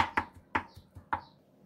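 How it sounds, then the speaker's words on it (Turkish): A knife presses and crushes food on a board in a home kitchen, three firm thuds spaced about half a second apart, each followed by softer knocks, close and clear with no talk. "Daha sonra bıçakla bu şekilde ezmeyi ihmal etmeyin."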